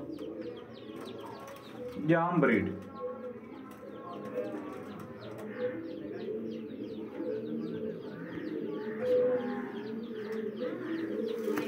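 Low flyer pigeons coo softly and steadily in a pigeon loft, a murmuring chorus of overlapping low calls with a few chirps, while someone talks over them.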